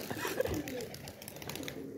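Pigeons flock to scattered grain in a Punjabi pigeon keeper's yard, giving soft coos and fluttering amid steady outdoor background noise, with a faint voice talking.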